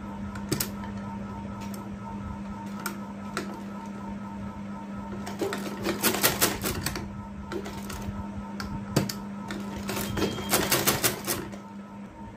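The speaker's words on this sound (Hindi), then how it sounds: "और इसकी सिलाई लगा लेंगे।" A sewing machine stitches a shirt in a series of short, rapid mechanical clattering bursts with pauses between, heavier runs in the middle and near the end over a steady low hum.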